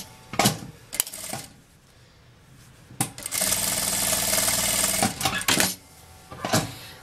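Sewing machine stitching a seam on patterned fabric near a zipper, a few short clicking bursts followed by a steady run of about two seconds, then more brief taps, up close.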